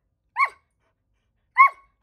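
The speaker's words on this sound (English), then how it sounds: "That's a little too much barking." A dog gives two sharp, loud barks about a second apart, each standing alone against near silence.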